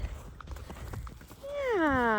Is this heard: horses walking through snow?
yes